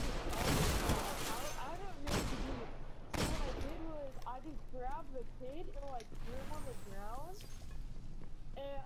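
Repeated gunfire bursts from the video game Destiny, loud and close, with sharp blasts early on and rapid shots continuing under frequent talking.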